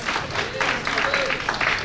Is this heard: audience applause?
yes